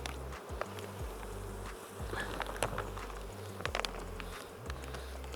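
Honey bees buzz around an open beehive during a hive inspection, a constant layered drone with individual bees swooping past close and pitch shifting, with light tapping now and then.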